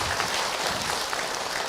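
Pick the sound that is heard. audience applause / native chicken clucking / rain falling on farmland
audience applause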